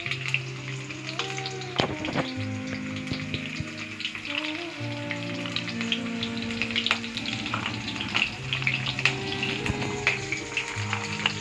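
Green chilies fry in hot oil, a continuous bright sizzle with occasional stirring clatter and utensil knocks, close and fairly steady throughout.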